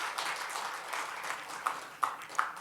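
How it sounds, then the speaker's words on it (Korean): Audience clapping at a church leaders' retreat seminar: steady applause from a room of people, with a few sharper, louder claps standing out near the end. "박수 한번 하겠습니다."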